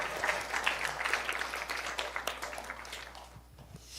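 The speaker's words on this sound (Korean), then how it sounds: "수환에게 박수 한번 주겠습니다" A church congregation at a Sunday worship service claps for Suhwan, a scattered burst of applause that is loudest at first, then thins and trails off near the end.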